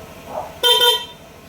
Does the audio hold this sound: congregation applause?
no